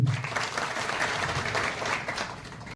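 An audience at an Ahir community meeting in Mumbai claps in a dense, steady burst of applause that carries evenly to the end, with some voices mixed in.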